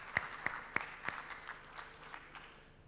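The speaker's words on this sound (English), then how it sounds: "Give us a round of applause here one more time." An audience at a financial forum claps in a scattered, thinning round of applause, a few sharp individual claps standing out before fading.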